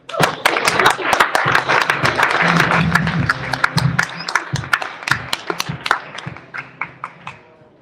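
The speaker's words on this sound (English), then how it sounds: "Please, ladies and gentlemen, join me in giving a round of applause for welcoming Assemblymember Clive Burnett." Crowd at a Crypto Mondays meetup in New York claps to welcome Assemblymember Clive Burnett, loud and dense at first, then tapering into sparse individual claps, with voices mixed in beneath.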